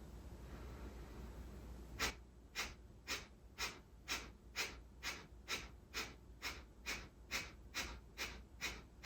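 Guided breathing exercise with a rapid, steady train of about fifteen sharp, pumped breaths that begins after two seconds of near quiet. The breaths are close and evenly spaced, with no talking.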